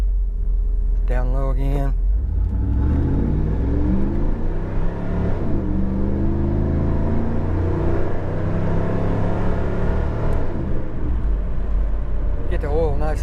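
A 1993 Chevrolet Camaro Z28 with low oil pressure drives over a rough road section, its engine a steady loud rumble heard from inside the car, with someone talking briefly at the start and end.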